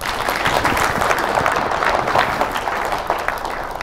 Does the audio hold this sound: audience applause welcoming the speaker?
yes